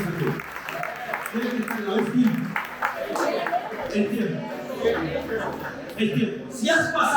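A church congregation claps and applauds for the Holy Spirit, steady mixed clapping with voices and murmuring throughout.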